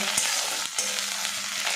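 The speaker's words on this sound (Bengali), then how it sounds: "একসঙ্গে নাড়াচাড়া করে ভাজা ভাজা করে নেব।" Ginger-garlic paste and onion sizzle loudly in hot oil while being stirred, a steady close frying hiss with a couple of sharp spatula scrapes.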